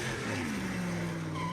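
A car burns rubber doing donuts, its loud engine roaring as the tires squeal and skid in a brief, close, continuous burst.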